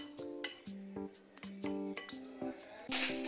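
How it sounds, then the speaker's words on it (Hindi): Knife chops cashews and almonds on a board with quick, light taps and clinks in an irregular rhythm, fairly close and alone. "काजू और बादाम को भी ऐसे ही कट कर लेंगे।"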